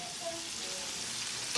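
Shrimp sizzle and spit in a crowded pan for oregano-style shrimp, a steady close frying hiss with small pops and a brief clink near the end.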